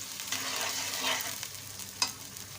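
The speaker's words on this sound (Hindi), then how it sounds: "अब हम इसके अंदर अनियन डालेंगे।" Chopped large onion frying in oil in a pan for arvi masala, giving a steady soft sizzle with a gentle stirring scrape and one brief louder clink near the end.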